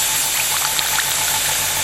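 An OPHIR AC006 airbrush bubbling and hissing steadily while being jet-bubble cleaned, a constant loud airy gurgle with small clicks.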